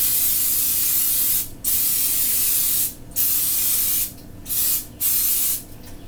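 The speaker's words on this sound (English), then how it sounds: "Spray my pan." Cooking spray hisses onto a cake pan over a kitchen sink in several loud sustained bursts, separated by short pauses, with no talking.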